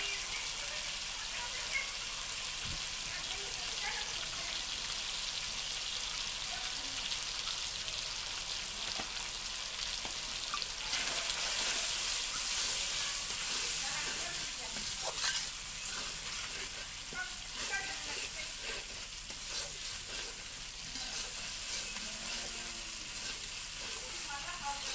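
Beef curry with salt, turmeric and spices being sautéed over a stove, a continuous soft frying sizzle with faint stirring scrapes throughout, quieter and steady, no voices.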